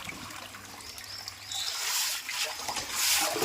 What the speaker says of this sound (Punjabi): ਆ ਦੇਖੋ ਤੇ ਪਾਣੀ ਨਿਕਲਣ ਲੱਗ ਗਿਆ